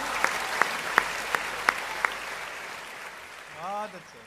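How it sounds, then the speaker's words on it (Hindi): Half a dozen sparse, separate handclaps from a small part of the audience at a Hindi kavi sammelan poetry recital in Bhopal, evenly spaced and fairly close, then a brief voice near the end. "कुछ लोगों ने थोड़ी सी कम तालियां बजाई है"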